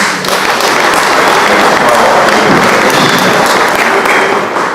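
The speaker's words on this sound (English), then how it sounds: "I think we can clap our hands again" A church audience at a diocesan communicators workshop in Harare claps hands together in a dense, steady burst of applause that fills the room for several seconds.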